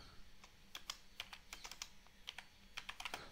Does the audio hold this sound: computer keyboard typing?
yes